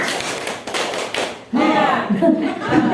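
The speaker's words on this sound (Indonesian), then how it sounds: "Coba tepuk dua, tiga" Sharp hand claps in a quick rhythmic pattern at a primary school, with voices chanting and calling out between the beats.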